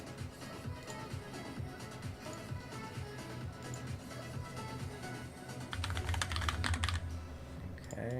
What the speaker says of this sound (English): Hopefully the typing is not too loud.